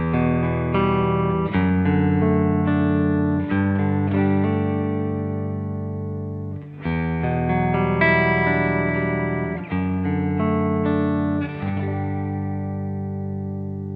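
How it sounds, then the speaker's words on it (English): Clean electric guitar chords through a P90 pickup ring out with sustained, bright tones, strummed in a steady pattern with short pauses between phrases. "Now I'll start on the clean tones on P90."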